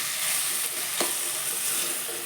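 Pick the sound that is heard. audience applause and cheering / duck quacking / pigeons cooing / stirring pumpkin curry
stirring pumpkin curry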